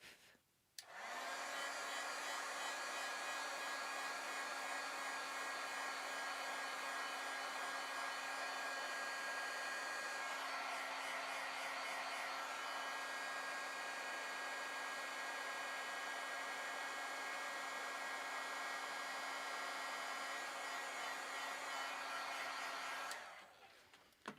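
Heat tool blowing steadily to melt embossing powder on a paper card, a loud constant whirring hiss held close for over twenty seconds before switching off, with no talk.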